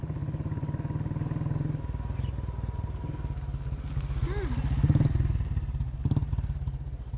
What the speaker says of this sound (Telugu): ఏంటి వృందా నువ్వు ఈ లగ్జరీ కార్ని కాదని డొక్కు బైక్ కోసం వెయిట్ చేస్తున్నావు?